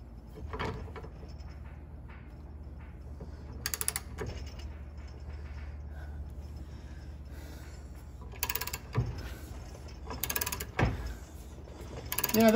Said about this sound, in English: screwing it in all the way